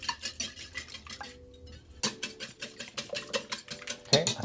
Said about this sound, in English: Just whisk those.